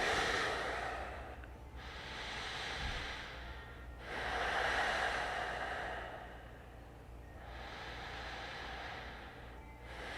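Slow, deep breaths during a yoga posture, three long drawn inhales and exhales close to the microphone, steady and unhurried against a quiet room.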